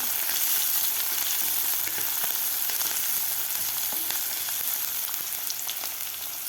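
Finely chopped medium onion sautéing in a pan for Maharashtrian moong dal pithla, a dense, even sizzle held at steady loudness from start to finish, with faint stirring ticks underneath and no voices.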